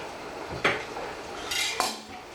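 A metal spoon scrapes and clinks against a pan while mashing anchovies into oil and garlic for pasta puttanesca, with two sharp clanks among softer scraping strokes, close and fairly loud.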